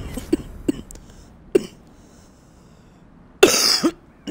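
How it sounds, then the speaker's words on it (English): A person coughs close by: a few short single coughs, then a louder, harsher burst of coughing near the end, with quiet gaps between. "Sorry about all the coughing"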